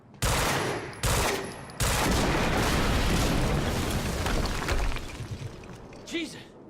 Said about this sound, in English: That's not the first explosion you've caused.